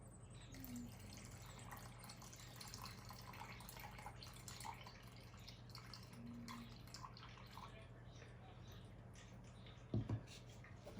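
Water pours into a container holding poolish set on a kitchen scale for ciabatta dough, a quiet steady trickle ending in a couple of louder splashes, with faint talk in the background.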